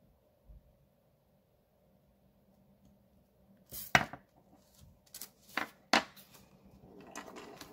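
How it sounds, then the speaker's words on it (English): An X-Acto knife cutting around the edges of paper in a planner. Several short, crisp slicing and tapping sounds come close up after a quiet start, and irregular strokes cluster in the second half. "what I'm gonna do is take my X-Acto knife"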